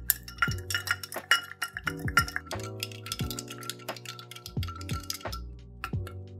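A bar spoon stirs a Negroni of gin, Campari and sweet vermouth over ice in a mixing glass, with steady repeated clinking and swirling ice rattles for several seconds, close and soft, with no speech.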